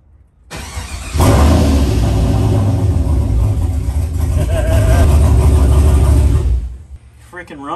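A Chevrolet C10 truck engine starts for the first time in 20 years, cranking and catching into a loud, steady rumbling idle that runs for several seconds before cutting off.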